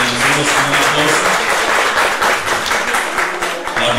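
An audience applauds a young girl at a tribute ceremony for a teacher, dense clapping filling the room with steady intensity and a faint murmur of voices underneath.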